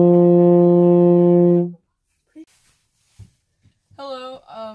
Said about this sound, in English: Hello, this is euphonium. It's a brass instrument.